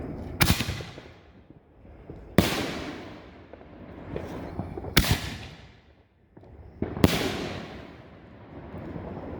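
Backyard Fourth of July fireworks fired from tubes, four loud sharp bangs spaced a couple of seconds apart, each trailing into a crackling decay with steady background noise between.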